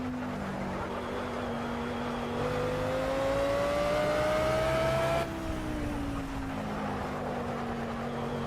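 A car's engine drones steadily as it cruises around a race track in S.T.A.L.K.E.R. 2: Heart of Chornobyl, its pitch climbing smoothly under acceleration and then dropping back after a shift, with no talk over it.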